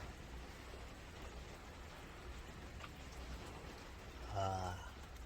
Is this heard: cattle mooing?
no